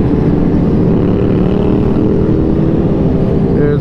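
A large group of motorcycles rides out together, producing a dense, continuous engine roar and rumble that stays loud and steady throughout, without any voices.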